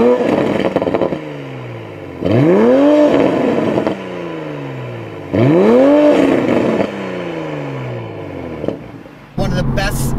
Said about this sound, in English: it gives you that deep throatiness exhaust sound. And with the pops and burbles